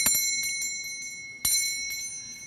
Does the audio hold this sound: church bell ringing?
yes